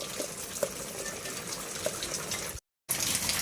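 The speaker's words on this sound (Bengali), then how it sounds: "এটাকে আমি মিক্সিতে ঢেলে দিচ্ছি" Water and spinach pour into a mixer grinder jar in a home kitchen, a soft continuous gush and splash that breaks off briefly near the end before resuming.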